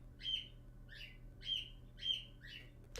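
Several pet birds chirping indoors in a house, five short bright chirps spaced evenly over a low steady hum, fairly close with no talking.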